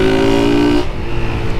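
A Fan 125 motorcycle fitted with a pushrod engine and a 3 mm kit, suffering from hard starting due to low fuel, cranks and catches, its loud close engine tone shifting as it comes to life.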